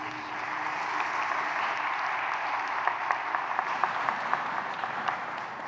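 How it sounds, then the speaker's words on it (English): An audience at a city State of the City event gives program participants steady applause, a dense continuous clapping with a few sharper individual claps standing out near the end. "Let's give our program participants another round of applause."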